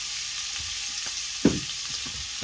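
Minced garlic, a few cloves, sizzles steadily in a hot pan while being stirred, a broad crackling hiss with a few soft scrapes and one sharper clack of the utensil near the middle; no voices.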